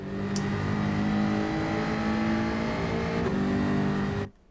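A Gr4 race car in Gran Turismo 7 at Road Atlanta holds a steady engine drone in fourth gear, loud and constant before cutting off abruptly near the end.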